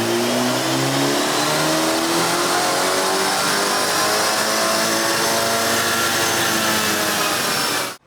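A BMW 330i with the B48 turbo four, running JB4 map 4 on E30 fuel, revs hard on a dyno. The loud engine note climbs steadily through one long pull and then cuts off abruptly at the end.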